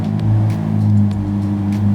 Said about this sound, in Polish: Dobra, czas na cold starta tego auta